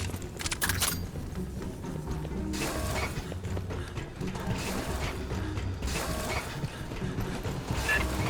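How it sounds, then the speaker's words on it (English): Heavy freight elevator machinery in the Aliens: Fireteam Elite video game, a steady mechanical grinding and ratcheting of gears and pulleys that runs loud and continuous, with repeated clanking pulses throughout. "Big freight elevator goes all the way up the main tower."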